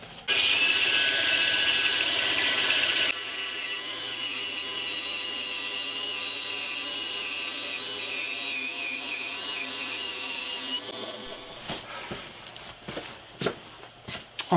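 A bandsaw cuts through wood with a hidden screw in it, sounding as a loud whining cut that drops to a steadier running drone. Near the end it gives way to scattered knocks and clatter in a workshop.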